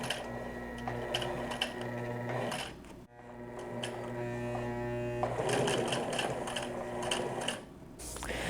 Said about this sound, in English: Can't forget to also top stitch around the sleeve.